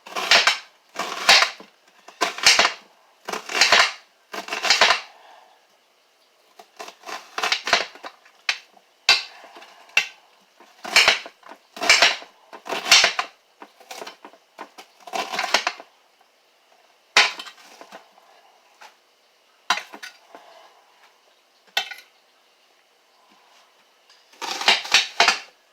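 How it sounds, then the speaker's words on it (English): A knife chops through an onion for chili on a cutting board in a quiet kitchen, making close, sharp knocks in quick bursts separated by pauses, with no voices. "Now I will be cutting up the onion."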